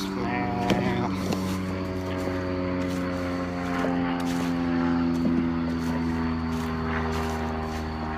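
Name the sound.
airplanes flying overhead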